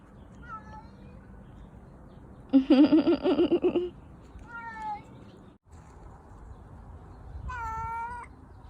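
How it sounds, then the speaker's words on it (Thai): A cat meows a few times, short drawn-out calls spaced apart, with a louder rough yowl in the middle against a quiet background. "สองตัวนี้เป็นแมวของเรานะคะ"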